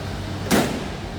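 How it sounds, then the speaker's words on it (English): A single dull thud of a 1953 Packard Cavalier convertible's door shutting close by, over the steady low hum of its idling engine. "Door closes nicely."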